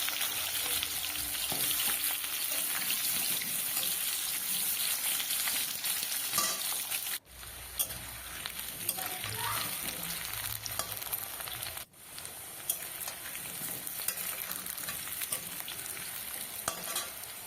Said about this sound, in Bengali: আলুটাকে একটু ভেজে নেবো তেলের ওপরে।